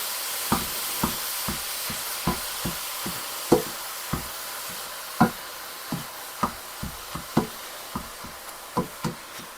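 Ground meat frying in a pan for cabbage rolls, broken up with a meat chopper: a steady sizzle carries repeated sharp knocks of the tool against the pan, roughly twice a second, close and clear with no talking.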